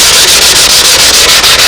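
Loud, rhythmic back-and-forth rasp of sandpaper on a carbon fiber wing surface, close up, with strokes repeating at a fast, even pace.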